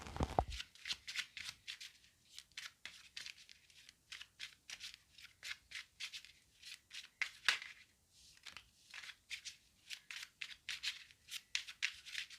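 Tarot cards are shuffled quietly and steadily, a rapid series of soft riffling bursts close up, with no talking.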